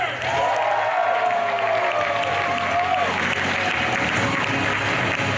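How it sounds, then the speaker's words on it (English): Audience applause fills a comic convention hall at Wizard World 2016, a steady loud clapping crowd throughout with a few tonal whistles or cheers rising over it early on. "Another round of applause for today's fighter!"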